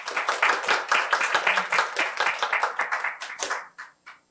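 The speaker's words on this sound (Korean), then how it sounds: "박수로 모시겠습니다" A forum audience applauds the arrival of a speaker, a steady, brisk patter of many hands that tapers off into a few last claps near the end.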